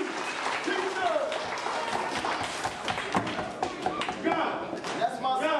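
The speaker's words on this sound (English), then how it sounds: "Let's give him a round of applause." Lively applause from a crowd rolls on continuously, with cheering voices and scattered thumps mixed into the clapping.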